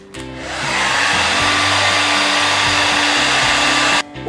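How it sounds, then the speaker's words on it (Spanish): A hair dryer roars loudly and close for about four seconds, drying a decorated recycled plastic container painted with chalk paint, starting and stopping abruptly with a steady whooshing hum. "vamos a volver a secar muy bien con secador de cabello"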